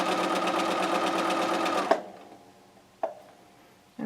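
Sewing machine stitching quilt squares runs in a fast, even rhythmic whir for about two seconds, then stops; a couple of single clunks follow in the quiet.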